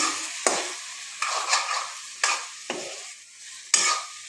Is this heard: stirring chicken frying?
yes